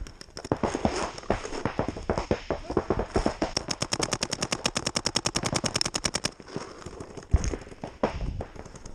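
Paintball markers fire in a fast, steady burst of dozens of sharp pops during an outdoor paintball game, with a few scattered shots before and after and a brief louder thump near the end.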